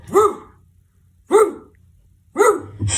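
A person imitates a big dog barking with three loud, deep woofs about a second apart, close to the listener, with a short rumble after the last one.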